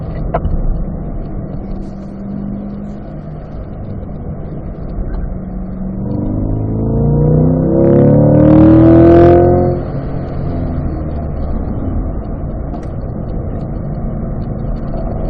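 A car accelerates on a race track during a track session, its engine drone building to a loud rising rev before easing back into a steady cruising hum, heard from inside the car with no talk.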